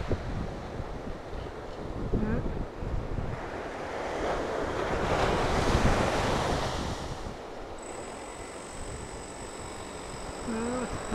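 Ocean waves break and wash up on a beach near San Diego. The surf roars steadily and swells in the middle, with wind buffeting the microphone and a faint voice now and then.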